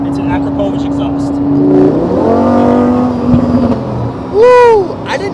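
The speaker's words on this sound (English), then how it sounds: "Man, that exhaust is just, that V10 note is so sick." A V10 supercar Spyder with an Akrapovic exhaust revs with a rising, throaty engine note. People talk over it, and a sharp rev burst cuts in near the end.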